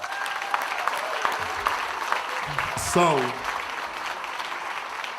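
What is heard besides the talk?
audience applause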